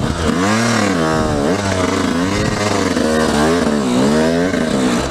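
A dirt bike engine drones loud and close, its pitch dipping and rising in waves as the rider shifts down a gear, steady and unbroken throughout.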